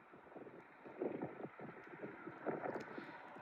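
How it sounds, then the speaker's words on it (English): Steady outdoor wind rumble buffeting the microphone, with gusts swelling around the middle and again near the end, no talking. "Still pretty windy, even in the evening."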